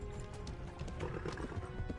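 A horse whinnies while hooves clip-clop in a quick galloping rhythm, fairly faint and a little synthetic, with no talking, in the video game Kingdom Come: Deliverance.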